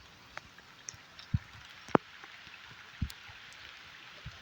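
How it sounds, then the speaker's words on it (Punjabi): Light rain falls over a farm field, with scattered, distinct drops tapping at irregular intervals over a faint, soft hiss. The sound is quiet and distant, with no talk. "ਬਰਸਾਤ ਸੋਣੀ ਪੈ ਰਹੀ ਹੈ"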